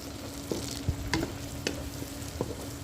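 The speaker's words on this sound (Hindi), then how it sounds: "ये लेंगे टमाटर भी आ गए, इसको भी हम ज़रा अच्छी तरह से फ्राई कर लेते हैं" Tomatoes and onions fry in a pan with a soft, steady sizzle, broken by a few crisp knocks and scrapes from stirring. The sound is quiet and close, with no speech.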